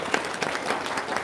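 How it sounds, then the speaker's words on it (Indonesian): An audience claps through a lively religious talk, a steady patter of many hands at moderate level, filling the short moment without voices. "Tepuk tangan dong biar semangat."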